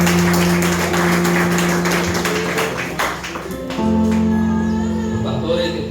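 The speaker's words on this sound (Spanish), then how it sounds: "Dale un aplauso fuerte al Señor." A church congregation claps loudly together as music swells, with dense clapping in the first half giving way to sustained organ-like music tones.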